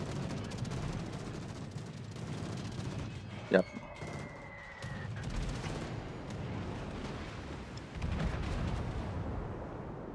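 Naval gunfire in World of Warships, a sharp distant-sounding boom over a constant low rumble of engine and sea noise, followed by a brief tonal whine and a later swell in the background roar.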